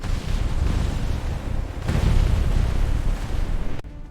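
Continuous heavy rumbling booms of artillery shells exploding over Berlin during the assault on the city, loud and dense, rolling on for several seconds before cutting off abruptly.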